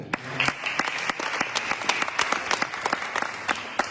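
An audience at the CENACLE 2022 religious gathering claps steadily in dense, continuous applause, sharp individual claps standing out close by throughout.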